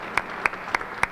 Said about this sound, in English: Councilman Harrison, give him a round of applause